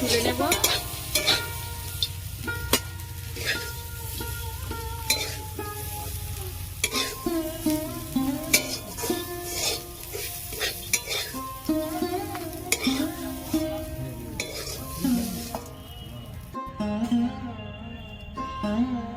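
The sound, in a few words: frying and stirring greens in pan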